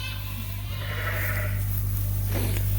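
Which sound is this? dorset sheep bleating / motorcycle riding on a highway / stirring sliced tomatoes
dorset sheep bleating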